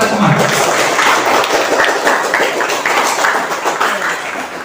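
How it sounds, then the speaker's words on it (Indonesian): A classroom of students bursts into loud, enthusiastic applause, dense and sustained clapping filling the room steadily from start to finish. "Saya minta tepuk tangan yang meriah untuk kita semua."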